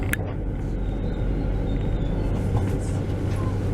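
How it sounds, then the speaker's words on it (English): A Railjet train at Vienna Meidling station gives a steady, loud rail rumble and rolling wheel noise that fills the whole stretch without a break, with no talk. "Oh, and there is in fact a railjet train."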